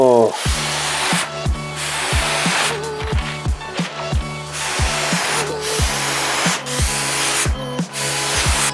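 A spray can paints a handmade surfboard bright orange, with short, loud hissing bursts close by, spaced irregularly with brief gaps between them and a rhythmic low clicking running underneath.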